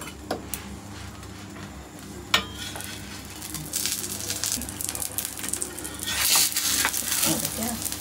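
Food puffs and sizzles in hot oil on a home stove, a steady bubbling crackle with a few sharp ticks, swelling louder toward the end.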